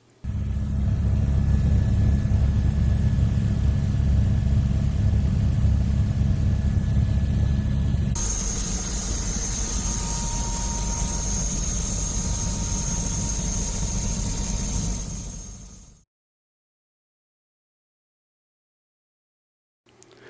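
A CHP helicopter flies over a crash scene, a loud continuous engine and rotor drone recorded from on board that changes tone midway, then cuts to silence.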